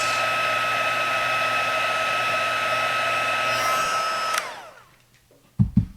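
An electric heat tool blows with a loud, steady hum while melting embossing powder on a handmade thank-you card, then switches off and winds down, followed by a couple of soft thumps.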